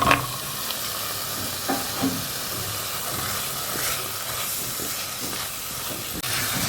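Masala frying in a pan before potatoes, peas and minced meat go in, a steady broadband hiss and sizzle that runs throughout, with a few soft stirring knocks, fairly loud and close.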